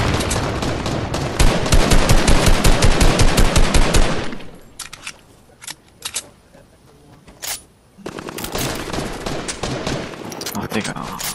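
Rapid automatic gunfire in a multiplayer shooter game, loud bursts of machine-gun fire for several seconds, a lull with a few isolated shots, then more sustained firing, with players talking over it.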